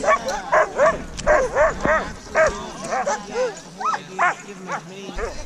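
Sled dogs in Alaska bark and yip in a steady series of sharp, excited calls close by, with whimpering and high yelps mixed in, while a person talks over them.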